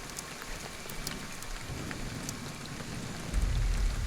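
Rain falls steadily in the video game Ghostwire: Tokyo, a soft even patter with scattered crisp drops, quiet overall, with a deeper rumbling swell near the end.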